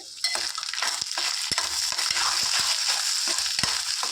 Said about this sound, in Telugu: ఇది లైట్ గోల్డెన్ బ్రౌన్ కలర్ వచ్చేంత వరకు చక్కగా ఫ్రై చేసుకోవాలి